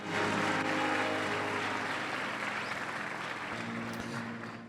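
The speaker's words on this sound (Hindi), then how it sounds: "तारीफ करो ताली बजाकर परमेश्वर की" A church congregation claps together in praise of God, a loud, sustained wash of applause that fades slightly toward the end, with no talk over it.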